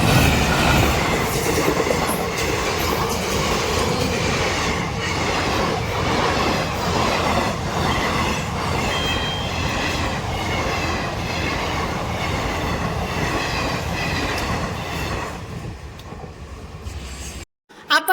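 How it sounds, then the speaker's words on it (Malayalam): A train rumbles and clatters loudly and steadily close by, its wheels and carriages rolling on for a long stretch before the noise cuts off. "അതേ നമ്മുടെ ട്രെയിൻ വന്നു കഴിഞ്ഞിട്ട്"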